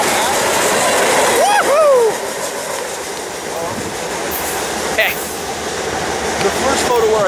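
A Miramar local train passes south of Miramar in San Diego County, a steady rumbling roar with a few faint squeals of wheels on rail, continuous and moderately loud throughout.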